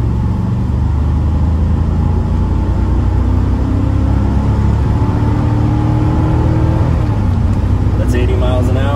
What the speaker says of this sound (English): coming onto an on-ramp, I'm gonna give it some gas here. This is a rolling start from second gear